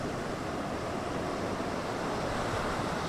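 Sea waves break and wash continuously onto the rocky Cameroonian coast, a dense, close, loud surf roar mixed with wind buffeting and no talking.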